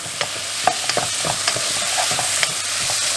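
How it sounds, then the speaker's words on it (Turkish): Mushrooms searing in a little olive oil in a pan, a loud, close, steady sizzle punctuated by frequent light spatula taps and scrapes. "Şöyle Güzelce mantarları mühürlüyorum burada."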